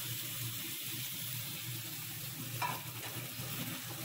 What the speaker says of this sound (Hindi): मिक्स इट वेल, अच्छे से मिक्स कर लीजिएगा आप लोग।